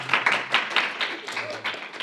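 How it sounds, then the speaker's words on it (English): Scattered audience clapping at a city council meeting, brief rhythmic claps under and alongside a person speaking nearby. "we don't have clapping here"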